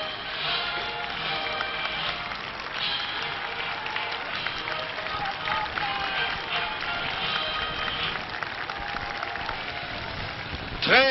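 Dense crowd gathered at Place de la Concorde in Paris in 1980 for the arrival of Pope John Paul II, a steady broad murmur and clapping-like hubbub throughout, with voices mixed in and a brief louder swell at the end.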